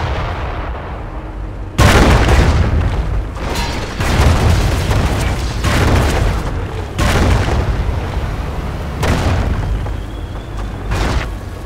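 Field gun artillery fire rolls through a Company of Heroes battle, heavy booming blasts arriving every second or two over a constant rumbling battlefield din, loud and close, with no talking.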